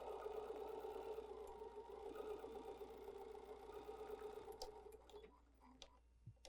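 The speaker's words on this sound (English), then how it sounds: "And of course, you just keep sewing that." A sewing machine stitching over fabric and elastic runs quietly and steadily with a soft mechanical hum and light ticking, fairly faint and close, easing off near the end.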